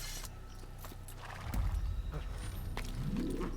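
Horse hooves clop and a mount shuffles as the player dismounts in the Assassin's Creed video game, a short burst of game sound effects over a steady background hum.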